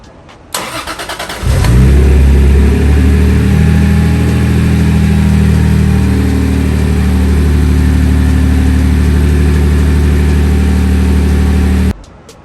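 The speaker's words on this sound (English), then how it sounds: "You just saw the car starts, runs, everything is good." A Toyota MK4 Supra fitted with an upgraded larger fuel pump cranks briefly, fires up loudly close by and settles into a steady, rumbling idle for about ten seconds before the sound cuts off.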